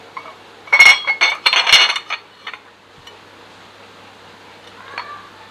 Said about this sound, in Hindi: आइए मैं डिश आउट करता हूँ इसको